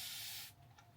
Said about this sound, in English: it just lets out such a beautiful stream of misty water